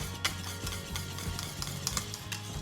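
Butterscotch pie filling thickening in a pot on the stove, a spoon scraping and stirring in steady strokes with soft bubbling and light clinks, close and fairly quiet.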